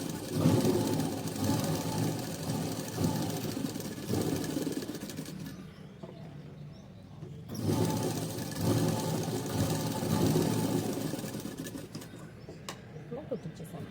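A sewing machine runs through cotton blouse fabric at the shoulder joint, a steady whirring stitch in two long bursts with a brief pause between, continuous and close.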